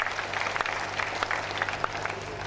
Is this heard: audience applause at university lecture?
yes